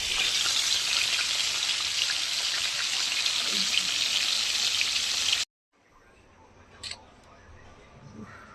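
Fish fries in a pan with cauliflower, potato and tomato, a dense continuous sizzle heard close for several seconds before it cuts off abruptly, leaving quiet room sound with a faint clink and light voice.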